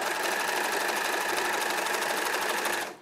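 A serger sewing machine runs at a fast, steady, close whirring chatter for about three seconds, then stops abruptly; no talking over it.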